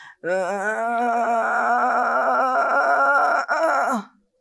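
A single voice imitates a patient's long, wavering groan of pain, one continuous moan lasting several seconds before it trails off.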